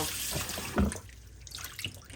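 Tap water runs over raw chicken drumsticks in a kitchen sink, a steady close splashing rinse with a brief louder gush near the middle before it tapers off.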